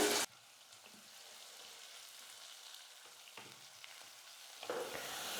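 Onion and curry leaves sautéing in hot oil for a mutton kuzhambu, a steady soft sizzle with occasional stirring scrapes, close and moderately quiet, no talking.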